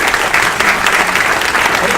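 Dense, loud audience applause at a congressional district candidates' debate held at an Islamic Center, a continuous wash of many hands clapping close by.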